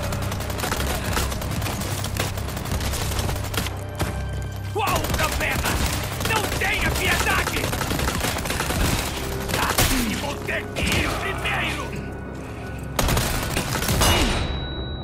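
Rapid gunfire from the Resident Evil 4 Remake game: dense, close bursts of shots and booms run almost continuously for about fifteen seconds over game ambience and effects.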